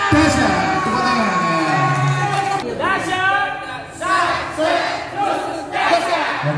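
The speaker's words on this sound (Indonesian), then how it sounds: "Tepuk tangan." A school group of children and teachers cheers and shouts for the fourth-place team in a lively indoor crowd, loud overlapping whoops and voices surging in waves with a few bursts of clapping, talk mixed throughout.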